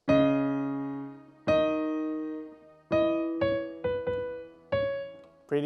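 Solo piano plays the pre-chorus melody of a song, a few clear, ringing notes, some held and some in quick pairs, heard close and alone.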